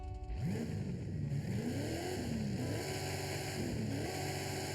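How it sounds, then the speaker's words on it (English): A race car engine in the video game Forza Horizon 5 revs up and down repeatedly, pitch climbing and dropping in sweeping waves over a steady background hum, no talking. "Sounds too much like a race car."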